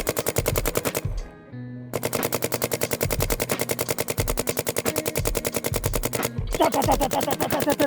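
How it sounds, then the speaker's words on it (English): A Planet Eclipse GEO 3 paintball marker firing rapid, evenly spaced bursts of shots, loud and close, with a short pause before the fast volleys resume. "shooting the best gun in the game right here, the GEO 3."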